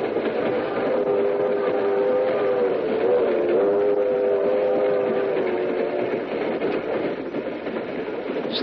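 Train sound effect in an old-time radio drama, a steady, loud rumble of a moving train with a sustained horn-like tone running through most of the stretch.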